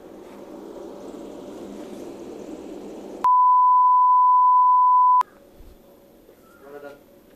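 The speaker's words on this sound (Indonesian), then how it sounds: "sekarang kita mending telepon Mas Aswin." A steady electronic phone tone sounds for about two seconds after low background noise, then cuts off abruptly.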